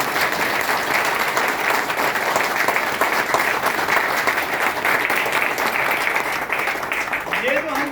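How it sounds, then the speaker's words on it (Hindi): Loud, dense applause from an audience at a company event runs steadily and unbroken throughout, with voices mixed into the clapping. "जोरदार क्लैपिंग।"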